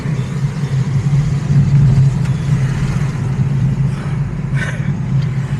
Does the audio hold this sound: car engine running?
yes